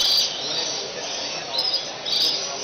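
Birds at a Gunnedah bird show giving high, shrill chirping calls in short bursts at the start and again toward the end, fairly close, over a steady background hiss, with no talk.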